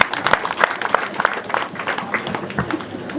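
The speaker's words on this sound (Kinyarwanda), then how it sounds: "Amuha amashyi" A church congregation at a confirmation ceremony breaks into applause, a lively run of many hands clapping in quick, uneven bursts that carries on for several seconds in a reverberant hall.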